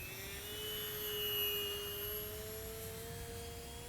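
A Durafly MFX Racer electric RC model airplane cruises at half throttle, its faint steady motor and propeller whine holding a sustained tone that swells slightly and then eases as it passes at a distance.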